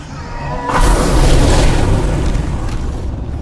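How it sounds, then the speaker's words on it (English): A loud, close grenade blast in the video game State of Decay 2, a deep booming roar that erupts sharply and rumbles on for a few seconds while slowly fading. "Let's chuck some grenades in there real quick"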